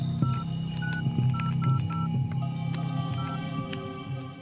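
A mobile phone number is keyed in, giving a quick run of short, close electronic keypad beeps at an uneven pace over a steady low hum, with no voices.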